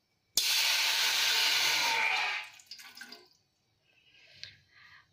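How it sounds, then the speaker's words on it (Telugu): A glass of water poured into a hot pot on a lit stove hisses and sizzles loudly for about two seconds, then settles into faint bubbling and drips. "ఇందులో మనం ముందుగా పక్కన పెట్టుకున్న గ్లాస్ వాటర్ పోసేసుకుందాం."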